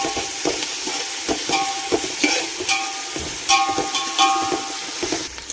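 Ginger paste stirred and fried in a pan, a steady close sizzle broken by repeated scraping knocks of a spoon against the metal at an uneven rhythm, with no voices.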